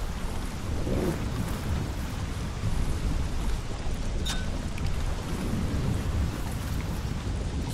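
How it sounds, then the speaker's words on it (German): Stormy weather in the game Don't Starve Shipwrecked: steady rain hiss and rumbling wind or distant thunder, continuous and fairly loud throughout, with no talk. "Es wird ein Sturm."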